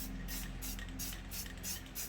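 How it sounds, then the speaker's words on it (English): A hissing spray paint can released in a series of short, rhythmic bursts, close and fairly quiet. "You just want to spray it very lightly over it."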